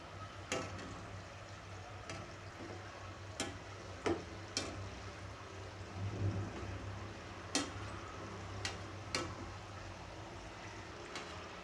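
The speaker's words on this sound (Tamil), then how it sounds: "அந்த பொரியிறது அந்த சத்தெல்லாம் அடங்கிடுச்சுன்னா நமக்கு பொரிஞ்சிடுச்சுன்னு அர்த்தம்." Sweet somas deep-fry in hot oil, giving a faint, steady sizzle and bubbling close by, broken by occasional sharp clicks, with no talk.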